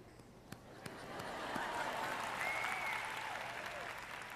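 Audience applause during a sermon, a soft, distant patter of clapping from a congregation that swells gently and holds for a few seconds, faint overall.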